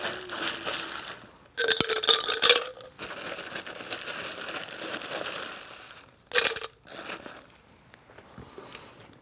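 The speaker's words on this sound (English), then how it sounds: "fill our glass with ice before we shake and divest it into the chimney glass" Cocktail ingredients, tequila for a Tequila Hurricane, shaken hard with ice in a shaker, giving bursts of rattling, crunching ice that stop and start several times, loud and close, with no talking.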